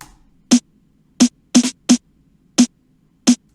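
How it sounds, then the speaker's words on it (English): Six sharp, doubled snare drum hits panned left and right, spaced unevenly with two close together in the middle, each crisp and bright against near silence. "I've doubled up on my snare, but I've panned it"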